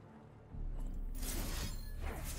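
A Shatter spell effect in Legends of Runeterra: a short, bright crystalline burst that swells suddenly after a low rumble and rings on briefly, with no voice over it.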